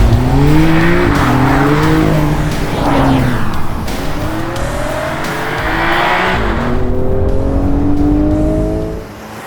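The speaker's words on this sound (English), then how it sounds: "I set out to the Black Forest in Germany to film one of my all-time favorite cars, the Porsche 911." A Porsche 911 driving fast on Black Forest roads in Germany, loud engine revving up and down through several gear changes with tire noise, close and continuous before easing off at the end.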